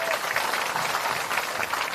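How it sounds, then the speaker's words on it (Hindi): Loud, continuous applause from a crowd at an outdoor village public rally in Bihar, a dense steady clapping close by with no pauses. "एक बार जोरदार ताली बजाइए"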